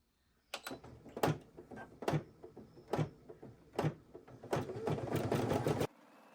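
A home embroidery machine stitching onto a denim jacket, sounding as a series of sharp, rhythmic mechanical bursts of clatter that build into a denser, sustained run near the end before stopping abruptly.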